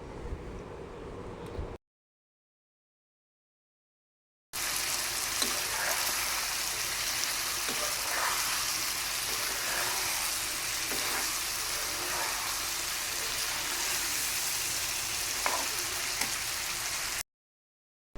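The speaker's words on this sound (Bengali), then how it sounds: "তো ভুঁড়ি কষাতে দিয়ে আর এখন হচ্ছে ইলিশ মাছ ভাজি করব।" Spicy beef tripe fries with spices in a pan, making a loud, continuous, rain-like sizzle with occasional stirring clicks over several seconds, after a short quieter opening and a gap of silence.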